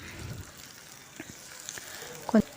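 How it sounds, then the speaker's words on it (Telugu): Onions and green chillies frying in plenty of hot oil in a kadai, a steady soft sizzle with a few brief stirring clinks near the end, no talking. "ఇప్పుడు ఉల్లిపాయలు పచ్చిమిర్చి బాగా వేపుకొని"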